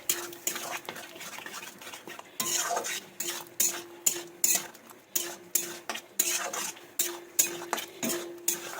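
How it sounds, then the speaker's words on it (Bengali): Taro curry with sour yogurt being stirred in a pan on a home stove, a spoon scraping and clinking against the pan in a steady rhythm of repeated strokes, close and clear with faint frying beneath. "দিয়ে কিন্তু এটাকে সুন্দরভাবে আমি একদম মিক্স করে দেবো"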